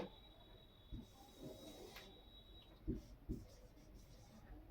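Pen scratching on paper while working out a class 10 maths problem, appearing in short soft strokes and taps, with a faint high electrical whine early on and quiet room noise between strokes.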